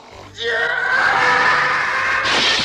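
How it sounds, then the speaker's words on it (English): Howie scream stock sound effect from the 1980 film The Ninth Configuration: one loud, sustained, strained male scream that holds for about two seconds, then breaks off abruptly near the end. "a famous stock sound effect similar to the Wilhelm scream, called the Howie scream"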